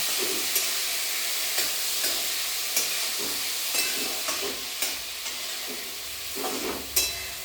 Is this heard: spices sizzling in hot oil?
yes